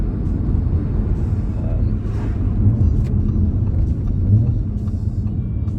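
A 2018 Audi RS5 coupe's 2.9 V6 TFSI quattro engine, running a pre-GPF RS exhaust, gives off a steady deep rumble that swells slightly now and then, with no clear turbo flutter standing out.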